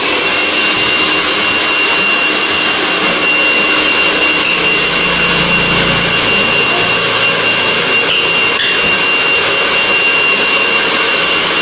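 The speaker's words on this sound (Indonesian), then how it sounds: "Air dryer, air dryer. Pengering rambut." Hair dryer blowing steadily and loudly during a haircut, a continuous broadband airflow roar with a steady whine, running without pause throughout.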